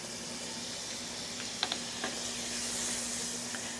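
Butter sizzles softly in a hot pan as a cheese sauce is started, a faint, steady hiss with a few small pops and clicks and no talking.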